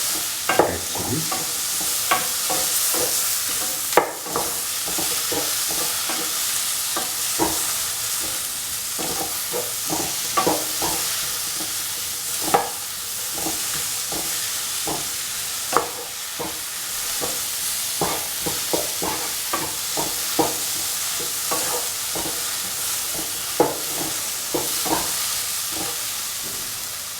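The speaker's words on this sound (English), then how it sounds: "Keep on sauteing so that all the ingredients are mixed with each other." Onions, shallots, tomatoes, garlic, red chillies, coriander and turmeric powder sizzle in a pan under continuous sautéing, with a constant frying hiss broken by frequent sharp spatula scrapes and taps throughout.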